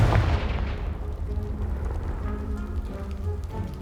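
A Confringo spell blast in the video game Hogwarts Legacy bursts with a heavy, booming explosion that trails off into crackling, rain-like debris and rumble, with no speech.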